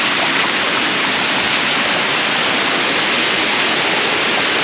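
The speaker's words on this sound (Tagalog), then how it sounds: "Encanto Falls." Engkanto Falls in Libmanan, Camarines Sur roars in a loud, dense, unbroken rush of falling water that fills the whole clip, close and steady.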